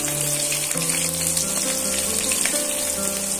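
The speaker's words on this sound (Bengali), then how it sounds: "মিডিয়াম সাইজের 4টে বড় বড় পেঁয়াজ নিয়েছি, মিডিয়াম সাইজের, সেটা আমি তেলের মধ্যে অ্যাড করে দিলাম" Four medium-sized onions frying in hot oil in a pan for a Bengali rui fish curry, giving a steady close sizzle with faint tonal background sound and no talking.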